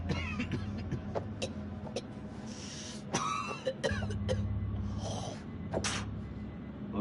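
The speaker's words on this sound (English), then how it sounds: "That's a nasty cough." A man coughs and clears his throat several times in rough, scattered bursts, fairly close, over a low background hum, with no talk.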